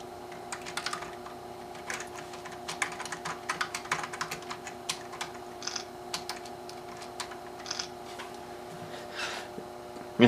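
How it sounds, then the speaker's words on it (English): Typing on a Power Macintosh G3 keyboard: irregular clicky keystrokes close up, steady over a constant electronic hum from the computer, with no talking. "Let's see if we can type something up here."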